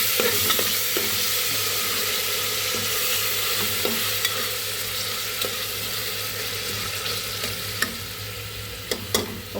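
Curd being stirred quickly into vegetable pulav in a pressure cooker, a steady wet sizzle with soft scraping and occasional clinks of the spoon against the metal, close and continuous with no voices.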